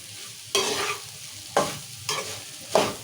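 Cooked rice being stirred in a pan with lemon juice, chillies and peanuts for lemon pulihora, four distinct scraping stir strokes over a faint sizzle, close and without talk.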